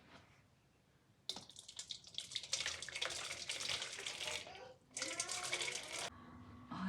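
Hot, just-boiled water is poured into a bowl for bauyrsak dough, two loud bursts of splashing pour separated by a short pause, close and alone.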